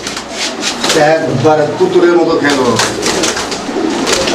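A pair of tumbler pigeons coos close up, with low, throbbing calls rising and falling over a few seconds while a person talks over them.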